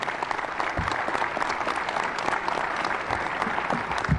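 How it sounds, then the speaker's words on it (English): Steady applause from a crowd at a state geography bee finals, dense and even clapping that holds at a constant level throughout. "A big round of applause for the champions here"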